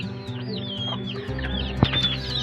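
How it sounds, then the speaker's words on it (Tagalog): Native chickens and chicks on a farm, with steady close clucking and high peeping chirps layered over one another, plus a brief sharp knock partway through. "Halo-halo na yung ating mga sisiyo."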